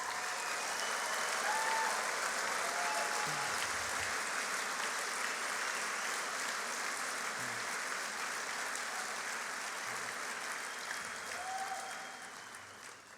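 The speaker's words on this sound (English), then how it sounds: "Can we please give a round of applause to..." Sustained, steady applause from a large audience at an Equality Utah keynote event, filling the room evenly before tapering slightly at the end.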